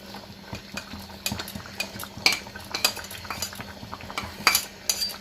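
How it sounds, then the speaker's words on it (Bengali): Paneer pieces go one by one into a cooking pan, with a busy run of metal utensil clinks, scrapes and pan knocks over a low, steady kitchen background. "এখন আমি পনিরগুলো দিয়ে দিব বুঝলি এক এক করে পনিরগুলো দিয়ে দিব"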